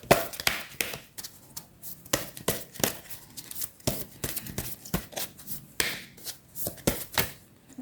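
Oracle cards being shuffled by hand for a single draw, a quick run of crisp papery riffles and flicks with short pauses between bursts, close up and with no talking.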